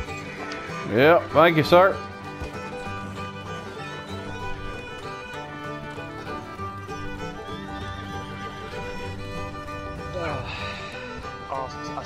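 Horses in the Red Dead Redemption 2 game whinny in a brief, loud burst of neighing near the start, with a fainter whinny later, under game music and people talking.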